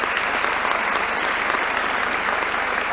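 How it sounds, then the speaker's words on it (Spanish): Steady applause from a conference audience at a social work congress, dense continuous clapping filling the room without pause. "que es el Polo Parisi, para quien pido el mayor de los aplausos."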